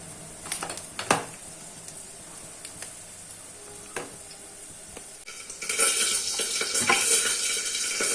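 Bora fritters fry in a pan, starting with faint scattered clinks and stirring, then rising about halfway into a steady, louder hiss of sizzling oil close by.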